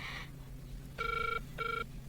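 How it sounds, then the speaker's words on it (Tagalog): A cellphone rings with two clear electronic bursts in a repeating pattern over a quiet background hum, faint and close, no talking. "Aday ta, agriring ti cellphone na."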